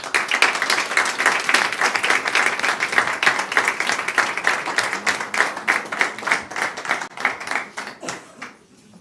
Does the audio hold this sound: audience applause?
yes